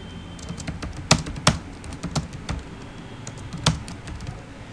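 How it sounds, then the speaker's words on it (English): Typing on a computer keyboard, close up, with uneven clicking keystrokes and a few sharper, louder key presses standing out from a steady patter. "Just press enter and start typing the content."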